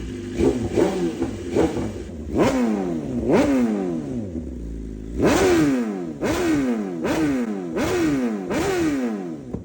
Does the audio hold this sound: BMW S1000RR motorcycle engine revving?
yes